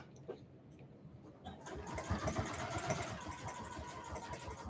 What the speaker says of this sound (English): using that 1/4 inch seam allowance, we are going to sew to the first mark